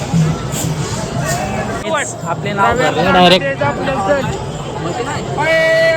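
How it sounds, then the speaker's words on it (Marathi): A dense crowd of pilgrims at the Pandharpur yatra on Ashadhi Ekadashi, with loud, close chatter and babble all around, voices overlapping and someone speaking in the foreground. "एवढं वाईट गर्दी"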